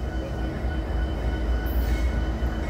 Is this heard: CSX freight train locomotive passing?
yes